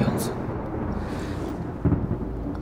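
Thunder from a storm rolls as a continuous low rumble with a couple of sharper swells, filling the background of a fantasy drama scene.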